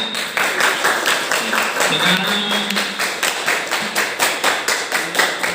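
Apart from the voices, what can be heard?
audience applause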